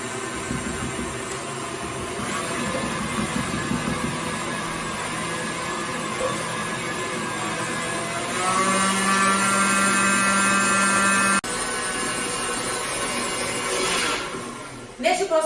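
A stand mixer beats choux pastry dough in a bowl, its motor whirring steadily and loudly throughout, rising in pitch and intensity partway through before easing off and stopping near the end.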